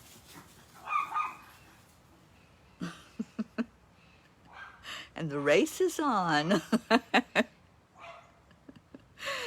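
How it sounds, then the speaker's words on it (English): Several dogs barking indoors toward the front door in a home, with short sharp barks in bursts, some yips and whines, mixed in with someone speaking nearby. "They're barking at someone, and I can see the front door."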